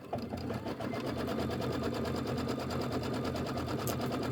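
A sewing machine runs steadily, hemming a pair of trousers, its fast regular needle chatter continuous and close throughout with no pauses.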